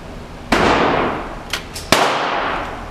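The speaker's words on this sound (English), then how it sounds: "Now we go with the shotgun." A shotgun fires at a paper target outdoors, with two loud close blasts and a lingering decay after each, plus a brief metallic clack between them.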